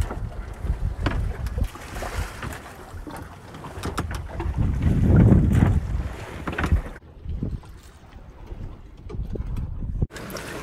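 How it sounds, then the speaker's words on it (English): Wind gusts over a sailboat at sea off Molokai, rumbling and buffeting the microphone in surges that swell loudest midway, then drop to a lull before rising again. "The wind is back, and pretty good breeze too."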